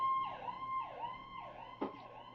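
An emergency vehicle siren wails through a city street, its rising and falling tone repeating in smooth sweeps at moderate distance, with a short sharp knock partway through and no talking.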